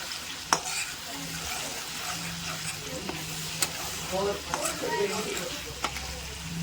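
Ginger and garlic sautéing in oil in a pan for a simple chicken thokku, a steady close sizzle with scattered sharp scrapes and taps of a spoon stirring, softly under background sound without clear talk.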